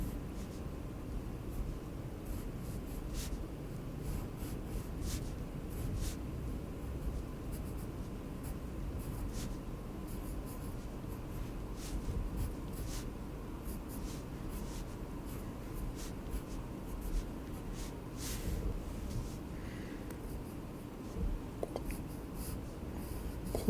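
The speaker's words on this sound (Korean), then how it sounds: "입술도 좀 날카롭게 그려볼게요." A pencil scratches steadily across paper in soft, continuous strokes while drawing the lips of a face, faint and close, with small scrapes and taps now and then.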